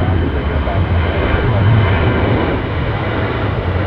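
A departing airliner climbing out of Tampa airport gives a steady, broad roar that holds loud for the whole stretch, its low rumble swelling slightly midway, with no talk over it.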